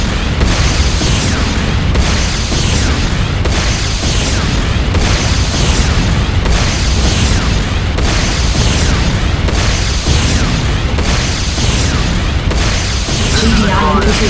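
Buildings are destroyed in the video game Renegade in a loud, dense barrage of booms and blasts, with heavy rumbling bursts pulsing regularly for the whole stretch.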